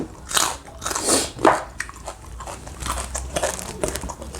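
Crisp crunchy bites and chewing of a Thai cucumber salad with salted egg, several close, loud bites followed by steadier wet chewing.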